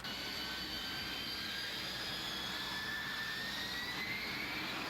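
Jet engine of a Blue Angels air show aircraft roaring steadily throughout, a broad constant rush with a faint rising whine, fairly distant and unbroken, no talking.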